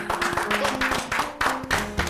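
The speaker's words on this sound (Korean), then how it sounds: "미리 박수 한번 칩시다." Studio audience on a Korean TV quiz show breaks into steady, loud applause, a dense continuous patter of many hands clapping with no talk over it.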